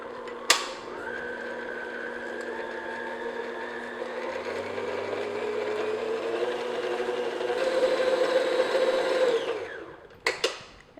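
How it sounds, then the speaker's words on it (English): An electric mixer beats lemon cupcake batter at medium speed, a steady whirring motor hum that holds for about ten seconds, rises slightly in pitch, then winds down, followed by a couple of clinks against the bowl. "beat these until the batter is nice and smooth and kind of satiny"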